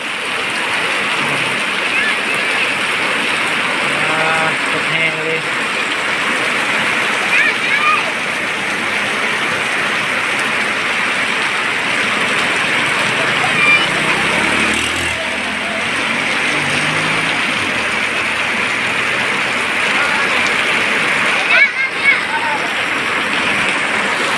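Rain falls steadily as a dense, even hiss that holds for the whole stretch, with faint voices and occasional small knocks underneath.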